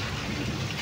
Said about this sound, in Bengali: এদিকে মেঘ ডাকছে আর বৃষ্টি পড়ছে